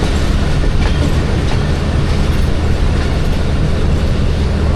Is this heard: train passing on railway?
yes